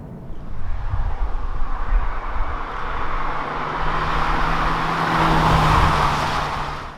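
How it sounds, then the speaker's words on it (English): A Hyundai Ioniq hybrid cruises in EV mode, its tyres rolling with a steady broadband road roar and a faint low hum, continuous and close with no engine note or voices. "when you're driving on the EV mode, it feels very quiet inside. You just hear the tires rolling."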